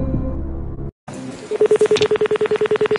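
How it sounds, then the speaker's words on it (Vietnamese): Telephone keypad dialing for a call on a quiz show: after a short burst of background sound and a brief silence, a rapid, evenly spaced series of beeps plays out close and clear, about a dozen in steady rhythm. "Gọi điện thoại cho người thân."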